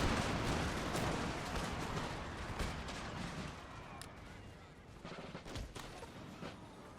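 Artillery and musket fire in the Empire Total War video game, dense rumbling gunfire and scattered booms in a continuous battle din, with someone talking over it.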